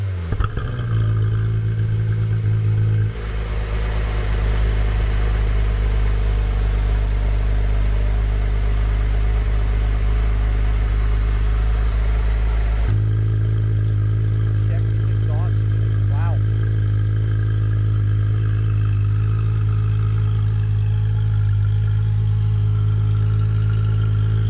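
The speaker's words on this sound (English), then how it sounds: "We're gonna get the vehicle started to hear the exhaust." A 2018 Porsche 911 GT3 Touring fires up close by, the startup swelling into a loud, steady exhaust idle that shifts to a lower settled drone and runs on continuously.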